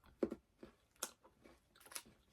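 Crunchy honeycomb free-from chocolate bar being chewed close up, several distinct crisp crunches spaced irregularly with quieter moist chewing between, no talking.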